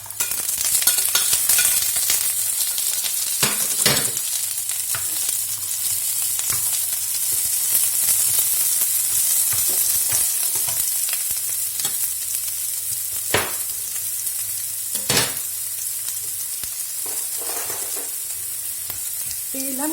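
Mushrooms fry and sizzle steadily in a hot pan, a constant close hiss broken by a few sharp scrapes and clacks of stirring, with no talking.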